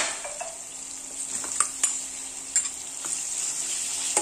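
Chili and onion go into a pan with okra for a bhaji and fry with a steady, close, high sizzle, broken by a few sharp clicks of a spoon stirring against the pan.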